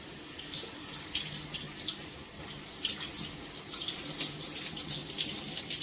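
Running water from a tap pours steadily over hair being wet and detangled, a soft continuous splash with small irregular spatters throughout, fairly quiet and with no talking.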